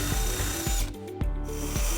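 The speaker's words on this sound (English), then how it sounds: "using the hitch as a template, we're going to drill through the rear body flange onto the other side" A power drill whines continuously at close range, briefly dropping in pitch as it bites through the metal rear body flange of a 2004 Buick Rendezvous, with a rhythmic grinding pulse.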